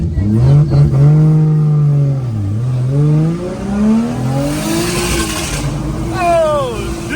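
A Nissan Skyline R34 set up for drifting angle drives hard, its engine revving up and down in rising and falling sweeps, close and loud throughout, with people's voices mixed in.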